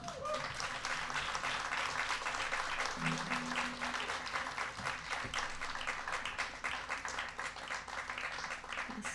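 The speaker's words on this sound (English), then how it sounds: "It's always nice to get a clap to that one." Audience at a live music festival set applauding after a song, a dense continuous wash of clapping that stays loud for several seconds and eases slightly near the end, with some voices mixed in.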